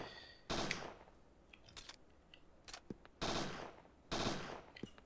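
In Parasite Eve 2, desert enemies fire three loud, sharp bursts of gunfire, with quieter clicks and thuds in the gaps between them.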